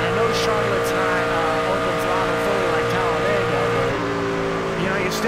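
A race truck engine in a NASCAR-style racing game at Charlotte, a loud continuous high-revving drone with shifting pitch during practice laps, steady throughout with occasional clicks on top.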